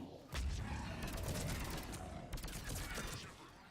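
Gunfire aimed at the player in the video game Mass Effect 3, loud rapid bursts of automatic shots with cracking impacts, two dense volleys close together with a short lull between them and game dialogue mixed in.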